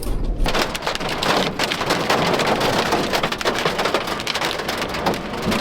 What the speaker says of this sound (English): Holy moly, that's hail.